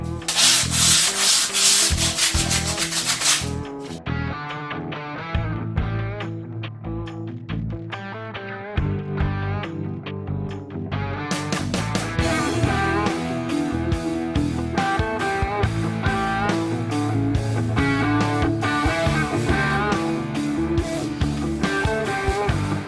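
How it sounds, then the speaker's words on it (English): Sandpaper rubbed over chalk-painted wooden farmhouse wall decor with shiplap lines, making repeated close, gritty back-and-forth scratching strokes that go quieter for a stretch before picking up again, with no speech. "Then we'll go over that with some sandpaper"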